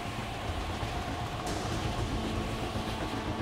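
A train in the video game Gears 5, a loud, continuous rumbling roar of rolling wheels and wind noise with no clear breaks, heard close by.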